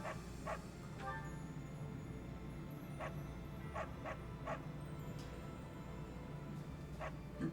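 A dog barks in short, sharp bursts every second or so within the Fire Emblem: Three Houses video game, moderately near and set over a steady bed of game music and ambience.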